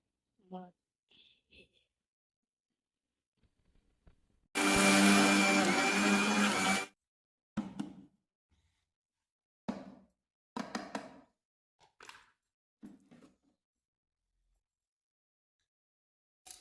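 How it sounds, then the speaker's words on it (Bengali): An electric mixer grinder runs in one loud, steady burst of about two seconds, grinding lentils into gram flour, with scattered knocks and handling clatter before and after. "একটা মিক্সার ডাল নিয়েছি এর মধ্যে একটু একটু করে ডাল নেব আর মিক্সিতে গুঁড়ো করতে থাকবো"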